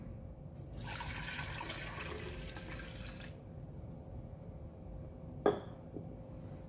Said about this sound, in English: add media to the double jacket glass vessel.